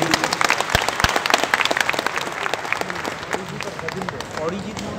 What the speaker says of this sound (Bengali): হাততালি দিয়ে তাকে একটু।